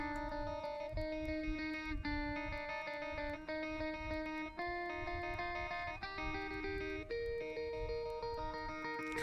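Sustained distorted electric guitar chords in a mixed rock track, washed in reverb that blurs each change into a lingering tail, playing steadily throughout.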